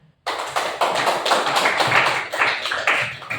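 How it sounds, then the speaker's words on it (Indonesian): An audience claps for a group presentation in a classroom lesson, a dense burst of many hands starting abruptly and continuing steadily and loudly for about three seconds. "Sekali lagi kita kasih tepuk tangan."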